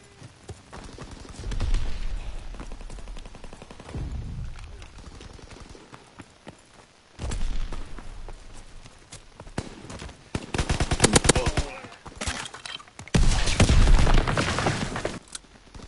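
Bursts of Call of Duty gunfire, rapid crackling volleys and booms in clusters amid hoofbeat-like clatter, with voices shouting between the bursts.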